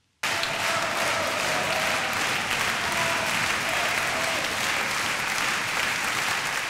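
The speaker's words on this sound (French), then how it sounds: "Le public de l'auditorium Régnier 3, debout, applaudit à tout rompre le pianiste Alexandre Kantarov" A standing auditorium audience applauds a pianist after a performance, thunderous sustained clapping that bursts in abruptly and stays loud and even until the end.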